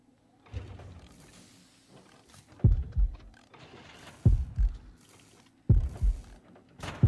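Heartbeat from the horror game Horrorfield: deep double thumps repeating roughly every one and a half seconds over a low hum, loud and close, with no talking.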